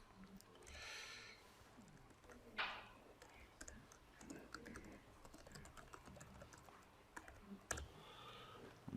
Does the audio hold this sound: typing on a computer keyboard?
yes